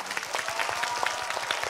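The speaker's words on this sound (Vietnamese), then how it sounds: "Những tràng pháo tay thay cho những lời cảm ơn của khán giả gửi tặng cho các thành viên các đội đây." Clapping from a television game-show studio audience for the competing family team members, a brief, continuous wash of many hands at moderate level.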